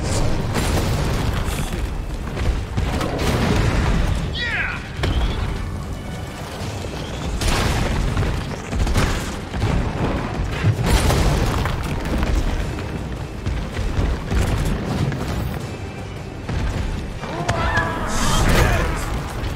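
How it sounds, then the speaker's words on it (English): Grenade explosions in the Resident Evil 3 Remake boss fight against Nemesis, heavy booms and bursts repeating through a loud, dense game soundscape with a voice talking over parts of it. "Oh, I forgot I gotta use the grenades."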